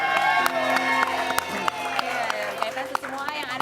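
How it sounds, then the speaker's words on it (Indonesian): A studio audience claps and cheers energetically on a talk show, with whoops and scattered sharp claps, while a host speaks over the crowd noise. "Tepuk tangannya lebih meriah lagi"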